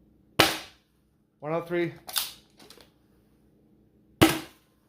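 An MZ01 MangZhong lever action Nerf blaster firing foam darts, two sharp, loud single shots well apart with a brief mechanical rattle between them, and a voice briefly speaking a number.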